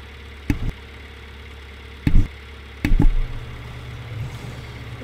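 A tractor engine drives across a grass field in Farming Simulator 19, a steady low hum broken by three loud thumping knocks and a brief higher rev near the end.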